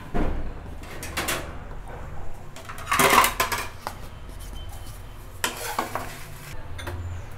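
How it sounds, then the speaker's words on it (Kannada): Roasted whole spices for homemade chicken masala powder being shifted into another metal pot, with scattered clinks, scrapes and rattles of pans and utensils, some sharp close knocks, and no voices. "ಬೇರೆ ಪಾತ್ರೆಗೆ ಚೇಂಜ್ ಮಾಡ್ಕೊಳ್ಳೋಣ"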